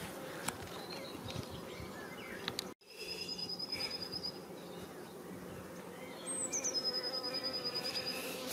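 Honeybees buzz around a hive at a spring apiary visit, a steady insect drone with a sharp break midway before the buzzing resumes more strongly. Faint high chirps rise near the end.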